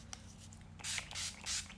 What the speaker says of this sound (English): So we're going to start off with the Urban Decay All Nighter Setting Spray.